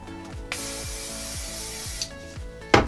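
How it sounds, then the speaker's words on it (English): A single long hiss of hair spray from an aerosol can, lasting a couple of seconds, with a few soft clicks and handling noises around it, while styling waved hair. "just put some spray on it"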